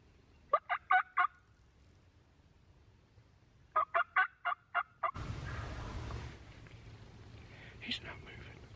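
A wild turkey tom on Kansas public land gobbles twice from a distance, each gobble a quick rattling burst, then a rustling scuffle follows with faint whispered talk nearby.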